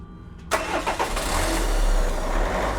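A car engine cranks and catches with a Nexpow jump starter, firing up loudly and close, then settling into a steady, rising rumble.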